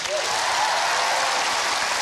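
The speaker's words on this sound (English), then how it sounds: "Give him a round of applause." A studio audience at a televised Irish dating show bursts into steady, dense applause, loud and sustained throughout the brief moment.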